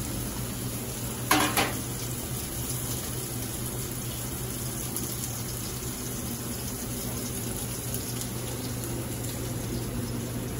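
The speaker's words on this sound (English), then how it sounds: "This piece we're going to sear all the way around on all 4 sides" Filet mignon searing in a hot pan during a cooking class, giving a steady, quiet sizzle throughout with one brief clatter early on and no talking.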